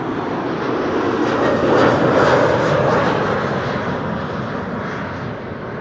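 KLM Embraer 190 jet airliner arriving at Amsterdam Schiphol Airport, a loud broadband engine roar that swells as it passes overhead and then slowly recedes, heard alone.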